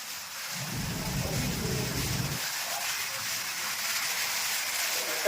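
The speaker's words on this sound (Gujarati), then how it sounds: "જોરદાર વરસાદ, બે કાંઠે પાણી હાલ્યું જાય છે" Steady heavy rain hisses throughout while a low rumble of thunder rolls beneath it for a couple of seconds, during a rainstorm in Chalala.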